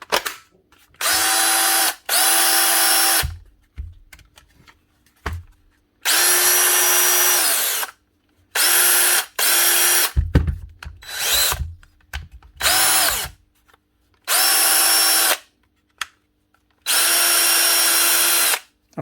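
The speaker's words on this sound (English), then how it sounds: "One Dewalt 18 volt angle drill DCD740" A DeWalt 18-volt DCD740 cordless angle drill with a new motor whirs in repeated bursts of a couple of seconds each, starting and stopping with brief clatters and handling noises between runs.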